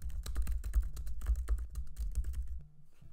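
Rapid typing on a computer keyboard, a dense run of close, crisp key clicks in an irregular rhythm for most of the stretch, ending in a brief quiet.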